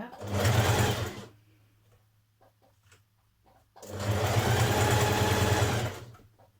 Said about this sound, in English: So I'm going to stitch it in now, so pull it as you stitch it.